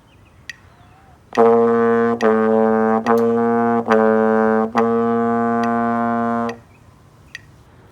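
A trombone plays a steady line of sustained notes, moving between first and second positions in even beats, close and solo, with quiet clicks before and after.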